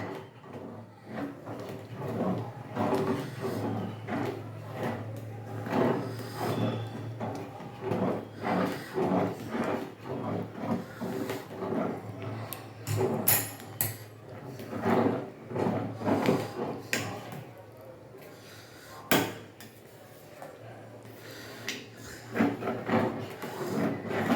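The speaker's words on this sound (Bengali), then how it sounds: "ভালো করে এবার নেড়ে চেড়ে দেবো মশলাটা, যাতে সমস্ত খিচুড়ির মধ্যে মশলাটা মিশে যায়।" A spoon stirs spices through egg and red lentil khichuri in a pot, giving repeated scraping and knocking strokes in an uneven rhythm, close and fairly clear, with no talking.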